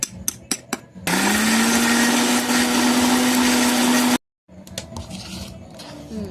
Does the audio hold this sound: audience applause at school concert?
no